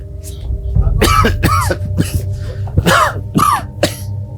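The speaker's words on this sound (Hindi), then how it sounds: "इतना खांस रहे हो, दवाई नहीं ली क्या?" Harsh, wet coughing fits, several coughs in quick bursts with throat clearing between them, close by and loud in a quiet room.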